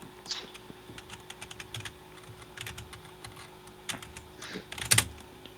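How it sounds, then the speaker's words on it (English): Rapid typing on a computer keyboard, quiet bursts of light key clicks with short pauses and a louder clack near the end, heard in a calm room with no talk. "I'm like horrible at typing,"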